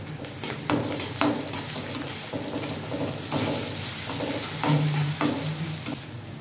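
Ginger-garlic masala frying in a pan with green chillies for a desi egg masala, a loud close sizzle with repeated stirring scrapes, and no talk.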